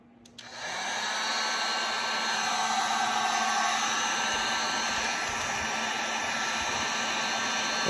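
A hot air tool blows a steady, even whoosh as it heats cured resin drips, starting after a click and running continuously at moderate volume.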